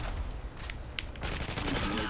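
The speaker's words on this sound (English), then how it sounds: "peppered him with some bullets" Rapid gunfire from a Tavor-21 rifle in a Modern Warfare 2 free-for-all match, in dense bursts that grow louder and busier toward the end, with talk over part of it.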